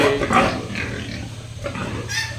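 Pigs on a farm, including a pregnant sow, grunting and oinking close by in a string of short, uneven snorts over a low background rumble.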